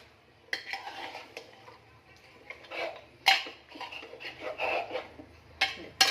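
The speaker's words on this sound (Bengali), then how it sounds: "এই যে মটন দিয়ে দিয়েছি, নাড়াচাড়া করে নেবো" Mutton curry is stirred in a pan, with intermittent metallic scrapes and clinks of the spoon against the pot in short bursts over a quiet background.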